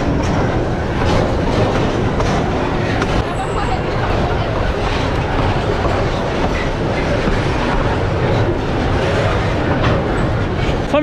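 A train moving slowly along the rails, with a steady close rumble and a continuous clickety-clack of wheels on track that stays loud throughout and never fades.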